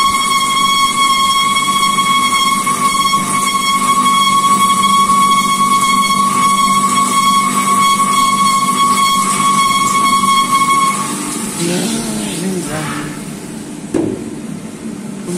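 A lathe cuts an M265x3 internal thread in a 160 mm steel cylinder tube with a loud, steady, high-pitched squeal over harsh grinding noise. The squeal stops near the end while rougher scraping continues.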